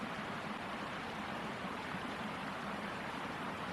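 A mountain stream in the Lake District, Cumbria, flows steadily with a close, continuous rush of water and no pauses, alone without any voices.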